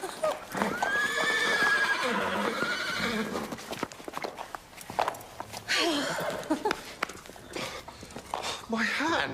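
A horse whinnies loudly near the start, then hooves clop on a farm amid scuffling and voices, with a second burst of neighing later.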